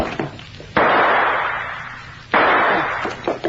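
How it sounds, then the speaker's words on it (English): Two loud, sharp gunshot blasts fired to shoot a lock off a door, each an abrupt crack followed by a long decaying echo, heard close and alone. "I'll shoot the lock off."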